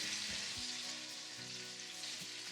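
Sausage fries in a pan with a soft, steady sizzle and crackle, close by and fairly faint, with a couple of dull bumps from the pan.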